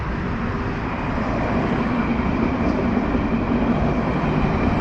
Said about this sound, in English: That's the local tram.